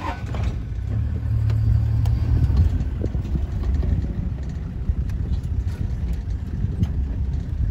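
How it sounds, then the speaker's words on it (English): A car engine draws near along a road during an elephant parade, a low rumble that swells over a couple of seconds and then settles into a steady idle-like drone, with wind buffeting the microphone. "she heard the car coming there"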